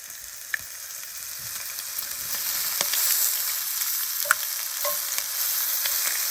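Bacon, mushrooms and eggs frying in a pan for a hearty outdoor breakfast: a steady close sizzle and crackle with scattered pops and spits, rising slightly in intensity partway through, with no talking.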